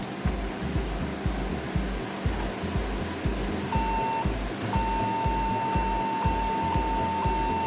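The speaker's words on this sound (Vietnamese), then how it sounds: "Nhưng mình nghe thấy là khoảng có 3 tiếng hồi bíp dài." A faulty laptop that fails to start sounds long error beeps on power-up, a steady high tone that begins partway through, breaks briefly, then continues over a regular low thumping pulse.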